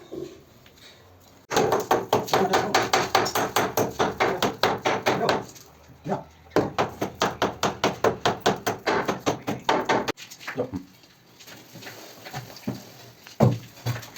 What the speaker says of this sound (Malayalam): അപ്പോൾ നമ്മൾ കട്ടറയുടെ ക്ലാമ്പ് പൊളിക്കുന്ന ഭാവമാണ് നമ്മൾ കാണുന്നത്